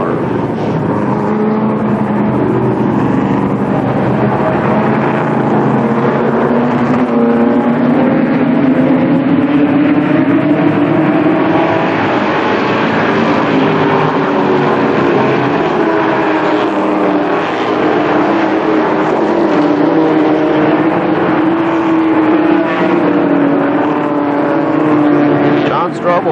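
Stock cars race at Columbus Motor Speedway after a restart, a dense continuous roar of several engines with rising and falling pitch held steady and loud throughout, with a commentator talking over it.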